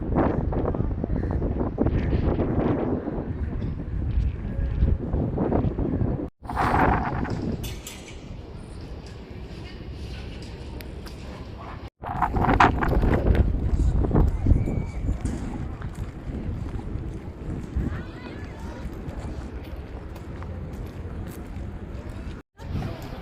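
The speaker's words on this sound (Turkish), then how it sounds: "Şu an aşırı rüzgar var." Heavy wind buffets the microphone in loud, uneven gusts in Marseille, with outdoor rumble and a few brief dropouts along the way.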